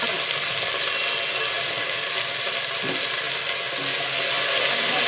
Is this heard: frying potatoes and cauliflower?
yes